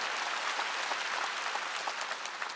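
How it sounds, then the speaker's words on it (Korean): Applause from a congregation at a church revival meeting, a steady dense clatter of many hands clapping together that is heard from some distance, with no talking. "박수 치라 이게"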